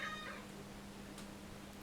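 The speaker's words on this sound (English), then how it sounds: "And the cat demands food." A house cat gives a single clear meow demanding food, close and fairly quiet, followed by a low steady hum and faint background ticks.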